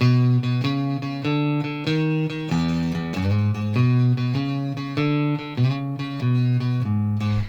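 Bass guitar walking a blues bass line, a steady stream of evenly spaced plucked notes moving up and down before returning to the start, close and clear with no voices.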